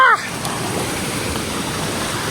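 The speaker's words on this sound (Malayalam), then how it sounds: "ഈ കാണുന്ന വെള്ളച്ചാട്ടമാണ് കേട്ടോ നമ്മൾ പറഞ്ഞത്." A waterfall pours over rocky, pitted ground, giving a steady, unbroken broadband rush of falling water that stays loud and even throughout, with a brief human voice at the very start.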